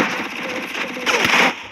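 Rapid automatic gunfire in the mobile battle-royale game Free Fire, a dense rattling burst of shots that swells louder near the end of the short stretch.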